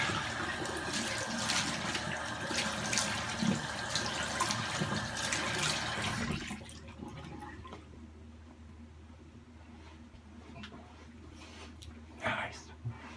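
A razor rinsed under a running tap, with a steady rush of water filling the first half and then cutting off, leaving quieter handling sounds and a brief splash near the end.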